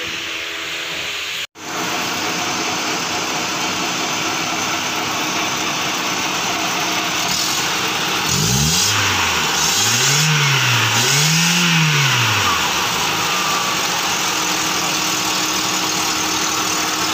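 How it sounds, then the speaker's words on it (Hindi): A Hyundai Accent engine idles smoothly after a misfire repair, a steady close mechanical hum with a few rising and falling revs partway through, preceded by a sharp click, no talking. "आप बिल्कुल भी वो जो मिस फायर नहीं कर रही है, एकदम स्मूथ है।"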